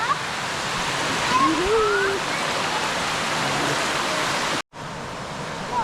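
River water flows in a steady, broad rush close by, with faint bird calls and a brief cut near the end.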